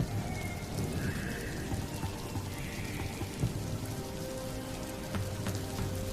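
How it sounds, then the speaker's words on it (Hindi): Steady rain falls in a cartoon story, a continuous dense hiss with scattered drops and faint low rumbles throughout, and no one speaks. "बारिश बढ़ती जा रही है"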